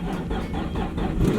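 A Nissan 350Z engine starts up close by on a weak battery and settles into a low, uneven rumble, with no voices.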